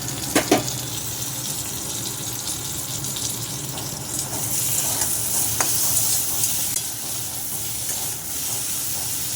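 Eggplant frying in oil in a pan makes a steady, close sizzle and crackle. A couple of sharp utensil knocks come near the start, and a clink follows midway. No one is speaking.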